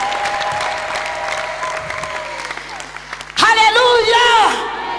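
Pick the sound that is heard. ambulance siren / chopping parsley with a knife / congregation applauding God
congregation applauding God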